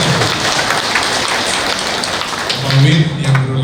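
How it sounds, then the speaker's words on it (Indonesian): A congregation at a Catholic Mass applauds a birthday wish for an 80th birthday, dense steady clapping filling the room with a voice speaking over it near the end. "Tepuk tangan."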